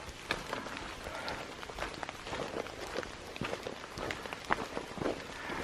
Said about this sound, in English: it's just a little bit of the late afternoon trail in the rain